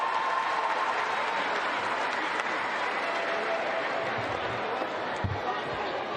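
A home crowd at a CEV Champions League volleyball match between VakifBank and Lodz in 2023 cheers and applauds a set win, with broad, sustained applause and cheering filling the arena and speech audible within it.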